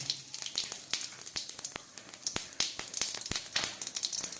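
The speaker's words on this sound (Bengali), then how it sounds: "দিয়ে দিচ্ছি সামান্য জিরে ফোড়ন।" Cumin seeds tempering in hot oil give a close, dry crackle of sharp irregular pops over a faint hiss, lasting a few seconds with no voices.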